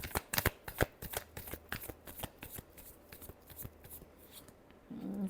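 Tarot cards being shuffled by hand, a run of sharp riffling snaps and flutters close up, dense at first and then thinning out, ending with a soft low rustle.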